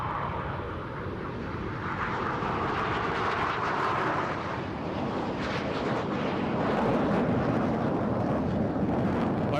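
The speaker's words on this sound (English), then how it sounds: "the aircraft, now taking off for a display a little later" Surya Kiran aerobatic team jet aircraft taking off at Hindon air base for an Air Force Day display, a broad steady engine roar with wind buffeting that holds loud throughout, swelling slightly near the end.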